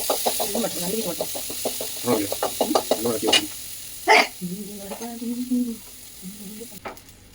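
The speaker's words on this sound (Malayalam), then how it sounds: "ബട്ടർ സ്കോച്ചിന് ബട്ടർ ആഡ് കൊടുക്കുകയാണ്. നല്ലൊരു ഇളക്കം." Butter is stirred into bubbling butterscotch in a pan, giving a close sizzle with a quick run of stirring scrapes, then a louder knock and softer, slower stirring.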